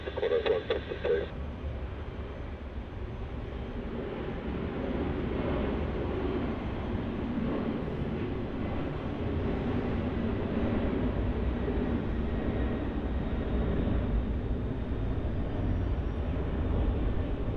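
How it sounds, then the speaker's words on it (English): A DHL cargo plane departs Melbourne Airport, its jet engines building into a sustained, broad roar at a distance. A brief burst of radio chatter comes at the start. "Beautiful departure there from that DHL 76 as it's going to Singapore."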